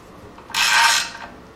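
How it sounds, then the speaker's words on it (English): A ratchet works quickly on a 10mm bolt on a 2006 Kia Sportage 2.7 engine, one short burst of rapid clicking, close and fairly loud, with no talking. "Now we're gonna go ahead and snug up our 2 10mm bolts."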